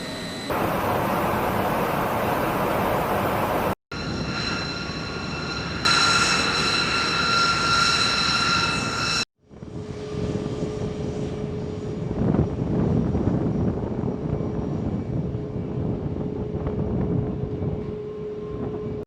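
A US Air Force B-1B bomber from the 37th Bomb Squadron flies over the Middle East, its loud, sustained jet engine roar filling several abruptly cut segments with no talk.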